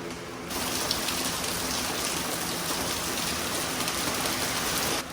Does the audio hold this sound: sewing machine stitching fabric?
no